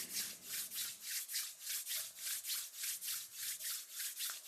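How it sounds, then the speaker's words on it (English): Palms rubbed briskly together to warm them during a meditation, a soft rhythmic swishing friction repeating about every third of a second, steady and close, with no voices. "rubbing the palms of your hands together to warm them"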